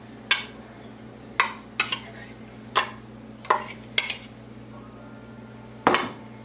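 Sour cream being mixed into coffee cake batter in a bowl gives seven separate sharp utensil knocks and scrapes against the bowl, spaced irregularly over a low steady background hum.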